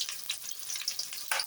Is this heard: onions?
yes